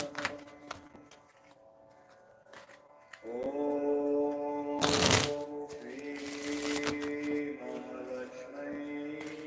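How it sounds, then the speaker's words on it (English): Tarot cards are shuffled in quick riffling bursts, with a louder flurry midway, close up over a faint background hum. "I'm just going to shuffle up some cards really quick for her."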